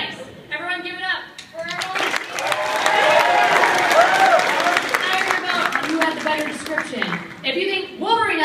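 A comic-con audience claps and cheers at a panel debate, a dense burst of applause with whoops layered under an amplified speaking voice that continues over the noise.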